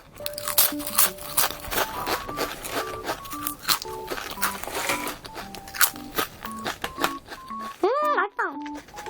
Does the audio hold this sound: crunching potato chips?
yes